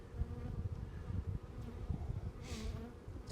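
Honey bees buzz around an open hive while drone trapping combs go in, a dense, close swarm hum with fluctuating low buzzing and individual bees passing near.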